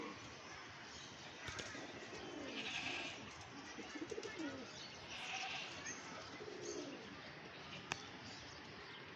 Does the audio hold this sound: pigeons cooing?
yes